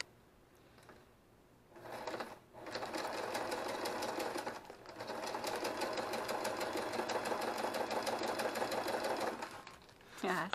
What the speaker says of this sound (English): Let's see if we can sew plastic.